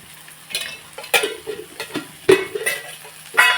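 Cauliflower and meal maker curry is stirred in a pan after a little oil goes in, giving a soft sizzle with scraping spoon strokes and a few sharper clinks against the metal, close by with no talk.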